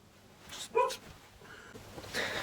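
A pet dog gives a short bark followed by a quieter yip or whimper nearby indoors, in a brief burst with no talking.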